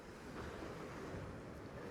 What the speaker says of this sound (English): the waves are coming in quite strongly